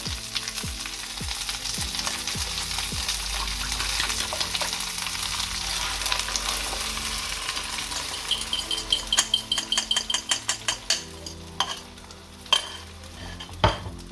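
Eggs frying in a pan over low heat for Transylvanian cheese bread, a steady sizzle throughout with stirring scrapes, then a run of quick utensil clinks against the pan near the end.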